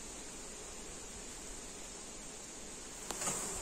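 A stray swarm of Buckfast honey bees hums at an apiary, a dense, steady, fairly soft buzz from many bees, with a brief nearer rise right at the end.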